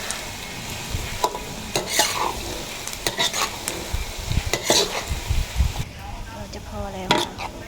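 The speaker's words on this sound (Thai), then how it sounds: "เจียวหอมเจียว แล้วก็กระเทียมเจียวรอเลยนะจ้ะพี่น้อง" Shallots and garlic frying in oil, a bubbling sizzle under irregular scrapes and clanks of a utensil stirring in the pan, close and busy throughout, with a faint voice at times.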